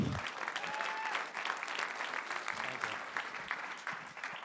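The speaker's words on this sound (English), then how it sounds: "Let's give Jake a round of applause." A live audience claps steadily as a guest walks on stage at a launch event, dense applause holding at an even level throughout, with faint voices mixed into the crowd.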